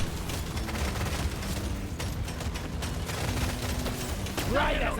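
Rapid automatic machine-gun fire in Deep Rock Galactic: Survivor rattles continuously under a noisy mix, ending with a short electronic chime.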